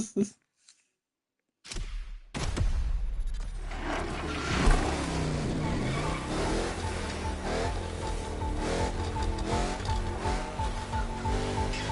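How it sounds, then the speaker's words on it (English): After a near-silent start, a monster truck engine in the racing game The Crew Motorfest roars up and holds a loud, continuous rumbling drive with shifting revs and whooshing movement. "I'm grabbing a motherfucking monster truck"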